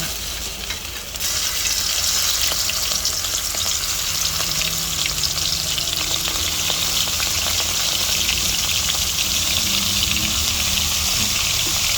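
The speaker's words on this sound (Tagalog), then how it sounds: "start na po natin prituhin ang ating calamares. Yan, fry na natin isa-isa." Breaded calamares sizzle in a frying pan as pieces go into the hot oil one at a time; a steady, loud bright hiss starts after a brief quieter moment and continues throughout.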